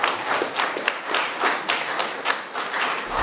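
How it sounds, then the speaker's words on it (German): An audience at a bratwurst championship festival in Pegnitz applauds a third-place butcher on stage, brisk close hand clapping that runs steadily throughout. "Einen großen Applaus."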